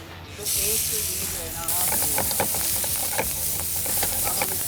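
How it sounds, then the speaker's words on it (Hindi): Julienne-cut onions sautéing in a pan for fajita wraps and burritos, a steady close hiss and sizzle with stirring clatter that swells after a brief quieter start; a voice talks briefly near the beginning. "जूलियन कटी हुई अनियन, वो आप अच्छे से इसको मिक्स करें और देन इसको सॉटे कर लें"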